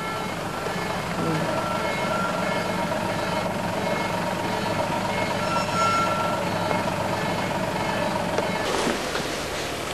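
A Hino fire brigade tanker truck reversing during a 1993 training exercise, its engine droning steadily with a repeating reversing beep over the top, continuous and fairly close, with faint voices underneath.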